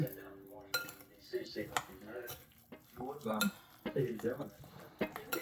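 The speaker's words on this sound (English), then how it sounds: "Okay, so then we're gonna mix this all up." Food seasoned with salt and pepper is mixed in a dish, with irregular clinks, scrapes and knocks of a utensil against the dish, nearby and moderately quiet.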